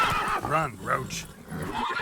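Roach, Geralt's horse in The Witcher 3, gives a clear close whinny with a rising and falling pitch. A spoken voice and a faint clip-clop of hooves come before and after it.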